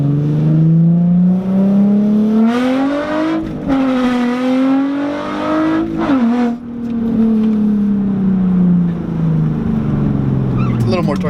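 A 2002 Dodge Ram 1500 Sport engine revving up and down, loud and close, pitch climbing and falling across several pulls, with people talking over it.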